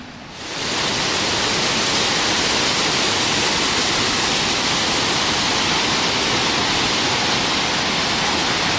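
Water of the lower Pawtucket Canal in Lowell flows in a steady, loud, broadband rush that rises within the first second and then holds constant, with no voices.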